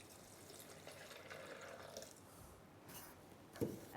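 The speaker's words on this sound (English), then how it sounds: "Okay, I'm going to add some water." Water poured into a blender jar holding cashews, a soft gurgling trickle, quiet and close, ending with a couple of light knocks, no talk.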